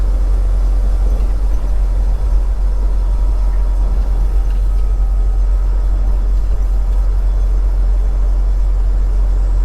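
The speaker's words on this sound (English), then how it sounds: "Just now when I started the truck, it started right up." A truck's engine idles after starting, a loud, steady low rumble that holds unbroken throughout.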